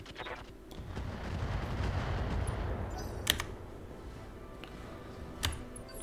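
Weapons fire in RogueTech, the BattleTech mod, as mechs shoot at a swarm: a sustained rumbling barrage of mid-distance gunfire, punctuated by two sharp, louder reports.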